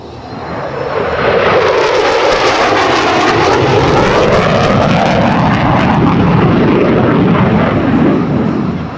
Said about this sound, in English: This aircraft is powered by a pair of Pratt & Whitney F100-DW-220 turbofan engines